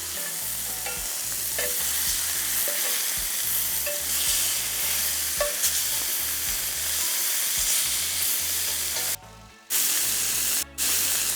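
Sea scallops sear in hot oil in a pan, a steady close sizzle and spatter that runs throughout, broken by two brief dropouts near the end and a few soft clinks and stirring sounds.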